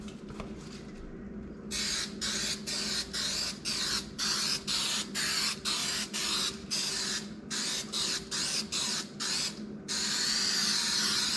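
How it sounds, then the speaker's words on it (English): An aerosol can sprays a Yamaha Tracer 9 GT motorcycle seat in a rapid series of short hissing bursts, close and fairly quiet, ending in one longer continuous spray. "now we're going to spray this one"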